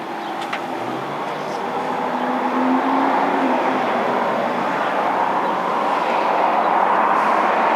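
A 2009 Audi R8 with its rear-mounted V8 runs at a gas station, giving a steady, full-bodied engine rumble that swells slightly and holds loud and close for the whole stretch.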